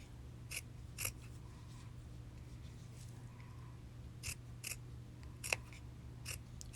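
Scissors snipping paper into strips for shabby chic craft flowers, with several quiet, crisp cuts spaced irregularly over a low steady background hum; nobody speaks.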